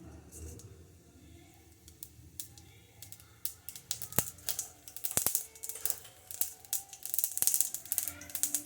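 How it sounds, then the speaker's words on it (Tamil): Mustard seeds crackle and pop in hot oil in a pan while tempering for a quick chutney served with idli and dosa. Sharp, irregular pops grow denser and louder over time, close by, with no talk. "கடுகு நல்லா வெடிச்ச உடனே"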